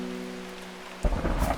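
Thunder rumbles in the video game Strange Horticulture, breaking in as a sudden loud, low crash amid rain after a quiet stretch with a steady hum, then rolling on to the end.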